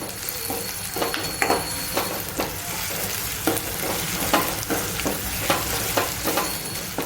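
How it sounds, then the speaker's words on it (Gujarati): Finely chopped onions fry and sizzle steadily in a pan, with occasional louder stirring scrapes and clicks over the continuous crackle. "ઝીણા સમારેલા કાંદા નાખીશું."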